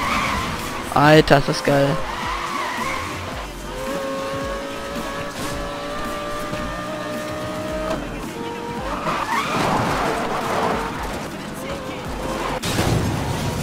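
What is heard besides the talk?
car drifting and skidding in the video game Need for Speed Most Wanted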